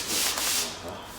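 Automotive clear coat paint is sanded by hand in one brief, close, loud abrasive rub that fades slightly at the end.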